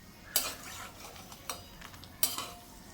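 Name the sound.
frying curd-stuffed chillies (sandage mirchi) in hot oil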